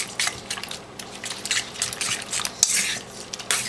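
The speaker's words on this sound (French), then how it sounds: "Et mélanger à nouveau jusqu'à ce qu'ils soient incorporés dans notre mélange." Spanish tortilla ingredients, eggs with potato mixture, being stirred in a bowl: a steady run of close clinks and scrapes of utensil against the bowl, with a few sharper taps, no talk.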